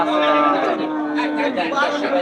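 A dairy cow that gives 18 litres of milk moos in a long, steady low call that fills the whole moment, loud and close, with a little background chatter; her heifer calf is with her.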